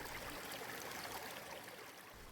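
A forest creek flows steadily, a continuous broadband rush of water at even loudness throughout, with no voices.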